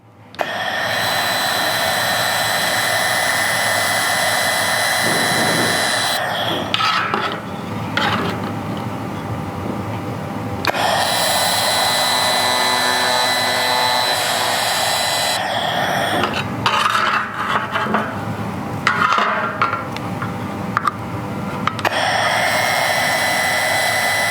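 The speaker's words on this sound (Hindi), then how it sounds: "तो दोस्तों आप देख सकते हैं हमने कितनी आसानी के साथ इस प्रोफाइल को इस शीट पे वेल्ड कर लिया है।" Laser welder running on an aluminium profile being joined to an aluminium sheet, a loud steady hiss and whine in long bursts with brief drops in between, close by and alone without talk.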